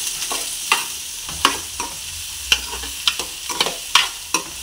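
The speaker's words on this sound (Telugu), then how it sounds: "ఆనియన్ వేసాక బాగా వేపుకోండి" Onions and green chillies sizzle softly in a pan while a spoon scrapes and stirs them, making sharp irregular knocks over a constant hiss. No voice is heard.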